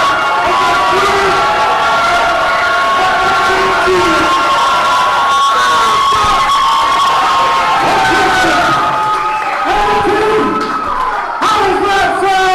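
A wrestling event crowd in Edmonton cheering and shouting loudly and continuously, a dense roar of voices with whoops and chants that dips briefly then swells again.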